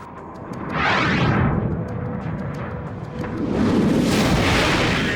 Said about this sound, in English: Fire torpedo.